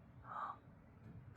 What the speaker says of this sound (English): 2 birds just flew right by